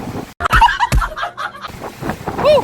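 Strong gusting storm wind from a typhoon and monsoon rains in Nasugbu roars and buffets against the microphone, with rough rumbling bursts and a faint high whine toward the end.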